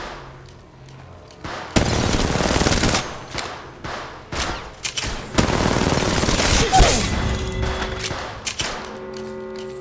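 Rapid bursts of automatic gunfire from Apex Legends Mobile, loud and close, starting after a quiet opening and continuing in repeated volleys with heavy impacts, layered with game sound effects and brief electronic announcer-style voice cues.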